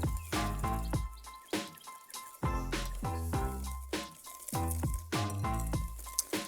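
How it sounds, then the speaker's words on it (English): A whisk beats ingredients for a flourless chocolate cake in a bowl, striking it in a quick rhythm of ringing clinks that decay between strokes, close by and with no talking. "So we will whisk this together."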